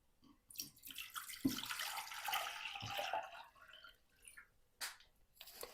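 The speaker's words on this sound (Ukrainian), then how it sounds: "До каструльки вливаю 1 літр води." Water runs into a saucepan for a vegetable marinade, a steady splashing pour that starts and then fades, with a few drips afterward, close by and alone.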